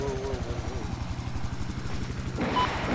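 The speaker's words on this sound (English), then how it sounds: "Oh, I got a chopper." A helicopter in Battlefield 4 on the Zavod 311 map, steady close rotor thumping throughout, with broadband game noise rising near the end.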